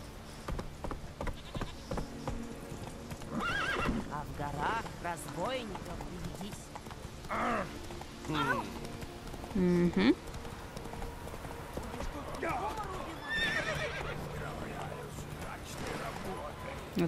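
Hooves clopping at a steady walk with occasional whinnies and snorts from a horse in The Witcher 3: Wild Hunt, while a person talks over it.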